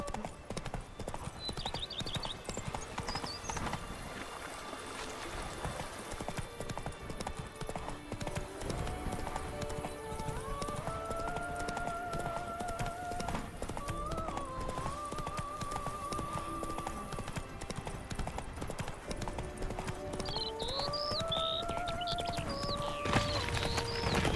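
Roach the horse trots in The Witcher 3, with dense, even hoofbeats running throughout under tonal game music, and a whinny breaking in near the start and again toward the end.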